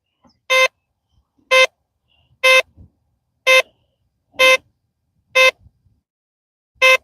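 A 40-year-old metal detector picks up a small metal stair part: seven identical electronic beeps ring out at a steady one-per-second pace, clear and loud, with near silence between the tones.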